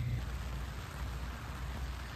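Rain falling during a holiday weekend at Ilha Comprida on the Brazilian coast, an unbroken broadband hiss with a faint low rumble beneath, steady and fairly close, with no talking.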